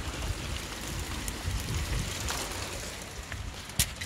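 Hail falls outside in British weather, a dense, steady patter with a few sharper impacts standing out, heard alone without speech.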